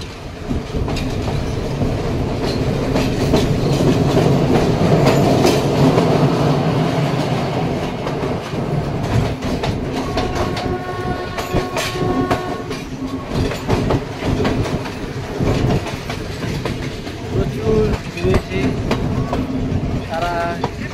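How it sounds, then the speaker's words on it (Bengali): Train rolling along rails in Sri Lanka, a loud, continuous rumble with rhythmic clacking of wheels over joints and a brief horn-like tone midway, steady and close throughout. "ট্রেনটাকে ক্যাপচার করছে।"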